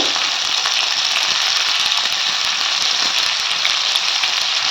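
Green chilies hit hot oil in a pan while fresh yellow cauliflower cooks, giving a loud, steady, dense sizzle with crackling that holds evenly throughout, no voices over it.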